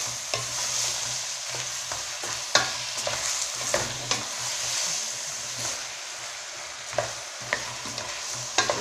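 Vegetables frying in a pan for a rice-and-vegetable dish, a steady sizzle with repeated scraping clicks of stirring, moderately close, no talk.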